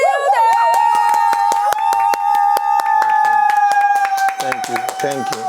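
Audience clapping in a lively talk-show studio, a steady rhythm of sharp claps heard close over a sustained musical tone and voices, with the hand claps continuing through the whole stretch.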